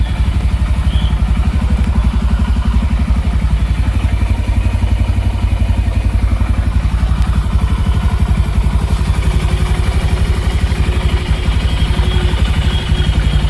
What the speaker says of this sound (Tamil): இதோட எக்ஸாஸ்ட் நோட்டுமே கேட்டுடுவாங்க.